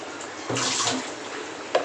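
Water is poured into a pot of cooking beef curry after the meat has been browned, giving a short rushing splash that runs for about a second, then a faint clink, heard close with no talk.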